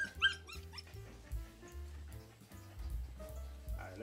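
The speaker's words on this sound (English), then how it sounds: "We have all 6 puppies there." Rottweiler and Bull Mastiff mix puppies whimper and yip in a litter of six, with high, wavering cries and short yelps scattered over a steady low background, fairly close.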